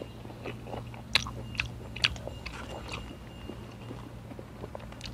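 Close chewing and biting on boiled-fish noodles with papaya salad, soft crunchy bites and wet mastication repeating irregularly over a steady low hum, no talking.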